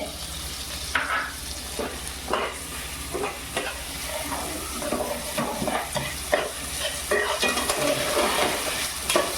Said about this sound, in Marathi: मस्तपैकी त्या तुपातच भाजून घ्यायचे ते तांदूळ